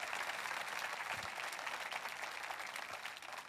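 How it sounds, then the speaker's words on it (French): A church congregation applauds in a steady, even wash of clapping that stays fairly quiet and continuous throughout, with no voices standing out. "Et applaudissez à l'avance ce qui va émerger de nouvelles vies dans la prochaine génération."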